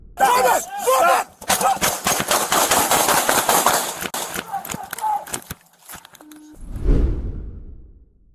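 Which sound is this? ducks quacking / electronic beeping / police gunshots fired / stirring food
police gunshots fired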